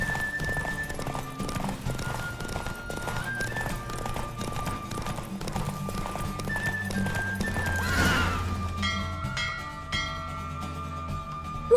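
Hooves clip-clop in steady rhythm as a horse runs a race in the video game The Witcher 3, with a neigh partway through and background music underneath, moderately loud.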